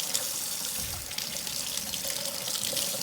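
Hot water from a kitchen tap runs steadily over an aluminum soda can, a constant broadband splashing rush that holds fairly loud and even for about three seconds with no voices.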